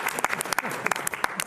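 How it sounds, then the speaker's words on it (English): Applause from a county commissioners' meeting audience during a retreat session, a short burst of scattered, moderately loud clapping from a room of people with a voice speaking over it. "I thought that applause was for me"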